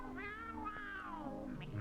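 A cartoon cat from the 1933 short Sassy Cats gives a single drawn-out, wavering meow that rises and falls, close and clear over a faint music bed with no talking.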